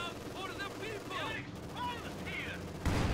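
An MG42 machine gun fires in Company of Heroes 2 during a match against conscripts and a T-34, heard as rapid bursts of gunfire mixed with battle noise and spoken commentary, ending in a louder thump.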